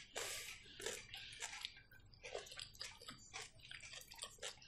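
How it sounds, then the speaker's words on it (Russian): Water runs from a tap into a basin, splashing and sloshing in irregular bursts and gushes that rise and fall. The sound is close and moderately loud, with no voices. "вода льется"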